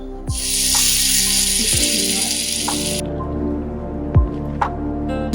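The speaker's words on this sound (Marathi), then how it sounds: "हे बारीक सोडून फ्राय करून घेणार जेणेकरून ते आतून चिकन शिजले पाहिजे" Chicken tikka pieces frying in hot oil in a pan, a steady loud sizzle that cuts off after about three seconds, leaving a low hum with a few soft clinks.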